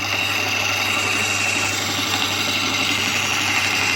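A Hercus metal lathe spins a small chucked metal part while a file is worked against it, giving a steady, loud mechanical whir with a constant low hum and a gritty, continuous rasp.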